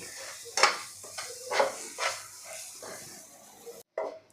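Fresh cream mixture for malai modak stirred in a pan over a low flame, heard as a handful of soft scraping strokes with faint sizzling, quiet and close.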